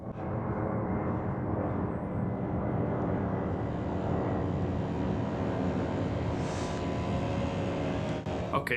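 A radio-controlled V-22 Osprey tiltrotor model flying at full throttle, giving a steady, loud, continuous engine and rotor drone with no break and no talk over it.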